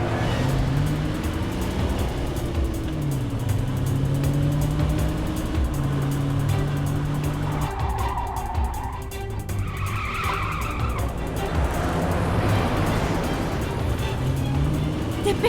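Tires skid and squeal during a car chase as an engine roars, loud and continuous over several seconds with shifting pitch.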